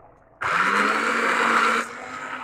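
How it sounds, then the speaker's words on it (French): An electric blender switches on abruptly and whirs loudly and steadily through cooked split pea soup, then cuts off and leaves a faint hum. "Donc je vais prendre le mixeur."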